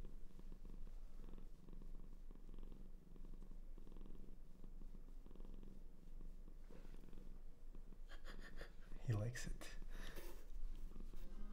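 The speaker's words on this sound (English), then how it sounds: "Do you hear the purr?" A cat purring close by, a soft steady rumble running throughout, joined near the end by a brief snort and rustling, heard faintly beneath quiet background sound.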